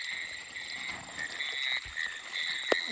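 Frogs near a stream (vhala) croak in a continuous chorus of repeated trilling calls at night, moderately close and fairly quiet, with a faint thump near the end and no speech.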